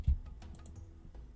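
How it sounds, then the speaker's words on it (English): A single sharp shift-key click on a computer keyboard, close and fairly soft, followed by a few faint ticks in a quiet room. "The keyboard click you heard me do right there was a shift click"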